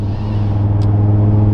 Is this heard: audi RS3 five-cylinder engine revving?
yes